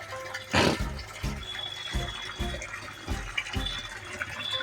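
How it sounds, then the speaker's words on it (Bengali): Water running into a biofloc fish tank during a water change while the outlet drains, a steady liquid rush with a loud gush near the start and soft repeated splashing pulses throughout, no talking. "একটা দিকে আমার জল ট্যাঙ্কিতে দেওয়া হচ্ছে, আর একটা দিকে কিন্তু আমার আউটলেট দিয়ে জলটা বেরিয়ে যাচ্ছে।"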